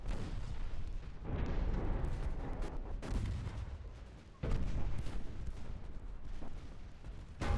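Naval guns roar in the warship battle game Ultimate Admiral: Dreadnoughts, a dense, continuous barrage of booming fire from a fleet of many smaller guns, heard fairly faint with no voices.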